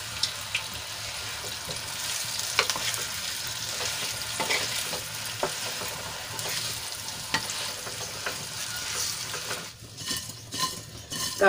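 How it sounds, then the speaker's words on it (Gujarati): Muthiya, steamed bottle gourd dumplings, being stirred into a sizzling oil tempering with asafoetida, with steady frying crackle and scraping spoon strokes throughout, plus brief watery clatter near the end. "મુઠિયાને સરસ રીતે વઘારમાં મિક્સ કરી લઈશું."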